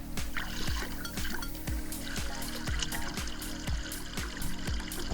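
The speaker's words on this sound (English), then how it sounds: "so I'll turn on the fill line" Water runs from a pool fill line into a green, swampy backyard pool, a steady close flow broken by regular gurgling pulses.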